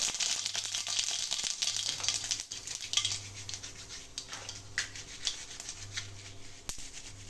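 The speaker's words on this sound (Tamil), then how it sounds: "கடுகு நல்லா புரியுது இப்போது" Mustard seeds spluttering in hot oil in a pan, a dense crackle and sizzle with scattered sharp pops and light metallic rattles, fairly quiet and close, with no talk.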